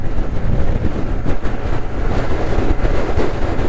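A Honda Grom 125 motorbike cruises on a motorway in the slipstream of lorries, a loud, constant engine drone mixed with heavy wind roar buffeting the microphone, with no pauses.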